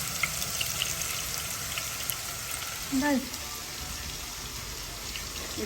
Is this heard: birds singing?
no